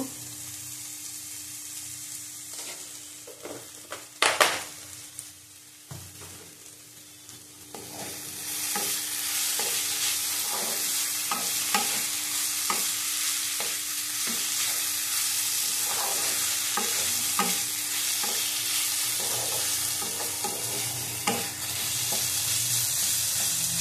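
Radish fries in a pan with a continuous sizzle as a utensil stirs and scrapes it in uneven strokes, with a couple of louder knocks early on before the frying grows fuller.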